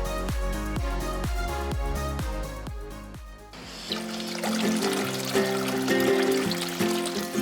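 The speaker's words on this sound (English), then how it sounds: "Finally, fresh water goes in." Fresh water pours steadily into a small pond and aquarium built from old bottles, a continuous splashing trickle close by. It starts partway through, after a few seconds of rhythmic plucked music.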